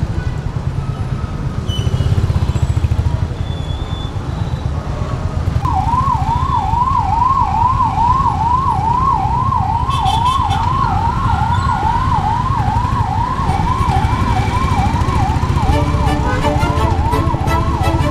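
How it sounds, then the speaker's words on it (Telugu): An ambulance siren wails in a steady, repeating up-and-down pattern, moderately close. It sits over a constant heavy roar of traffic and engine noise. "బట్ అంబులెన్స్ ఎమర్జెన్సీ కాబట్టి వాటి వెళ్ళిపోవడానికి"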